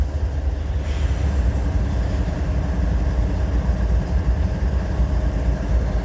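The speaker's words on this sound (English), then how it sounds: "there's our train right there that we just watched come in" A freight train rolls into Maxwell Yard, a steady, loud low rumble of wheels and cars that holds evenly throughout with no distinct breaks.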